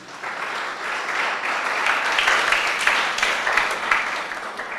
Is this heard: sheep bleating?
no